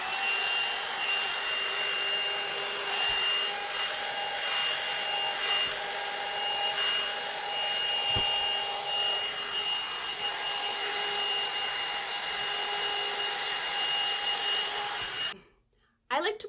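A hair dryer blows steadily while thin, fine hair is brushed out for a voluminous blowout. The loud, continuous whirring hum runs close to the microphone and cuts off abruptly near the end.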